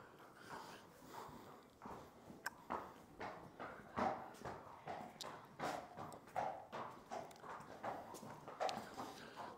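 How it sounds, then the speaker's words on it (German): Horse hooves walking on a hard hallway floor indoors, with a foal present: a steady series of close, hollow clip-clop steps, some with snorts or sniffs between them, growing slightly louder and with no talk. "Da steht ein Pferd auf dem Flur."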